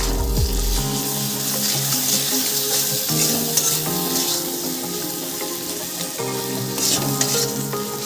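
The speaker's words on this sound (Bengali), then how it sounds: "এবারে মশলাগুলোকে একটু কষিয়ে নেব" Ground spice pastes with cumin, coriander, ginger-garlic and a little Kashmiri chili powder sautéing in a pan, a continuous close sizzle with light stirring scrapes and a steady background hum throughout.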